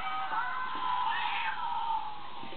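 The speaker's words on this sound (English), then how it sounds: "There's a kitty cat." A thin, buzzy electronic meow from a Project Mc2 Circuit Beats toy circuit board, steady and mid-pitched, playing on its own for a couple of seconds like a toy sound chip.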